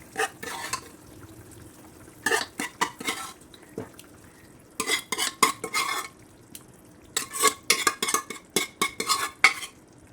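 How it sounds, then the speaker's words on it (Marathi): A spoon stirs pressure-cooked dal into partly cooked vegetables in a pot for sambar, giving bursts of scraping, clinking strokes against the metal separated by short quiet pauses. "एकसारखं करून घ्यायचं आता आणि डाळीत हे सगळं शिजवायचं"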